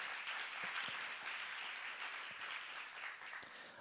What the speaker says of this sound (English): Round of applause to Misha.